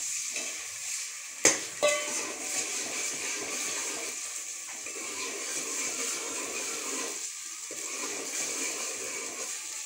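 Oil sizzles and crackles steadily in a hot pan with desi ghee for a tempering, with a sharp clatter and pop early on, then a continuous hiss with no talking.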